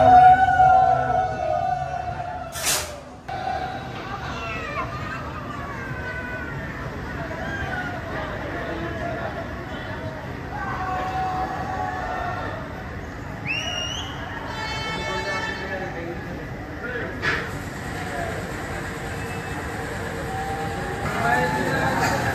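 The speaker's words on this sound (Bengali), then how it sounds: "রোলার কোস্টার চলে যাচ্ছে।" A roller coaster at Fantasy Kingdom amusement park rumbles along its track in a steady rolling drone, with crowd babble and a nearby person talking throughout.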